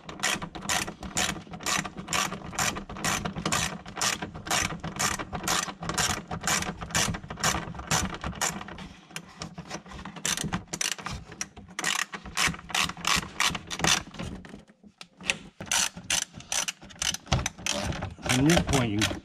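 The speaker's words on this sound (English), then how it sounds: "ratchet and extension and the socket and we'll get her back on" A hand ratchet with an extension and socket tightens bolts on a C7 Corvette spoiler, giving a close, steady string of rapid clicks that pause briefly before resuming.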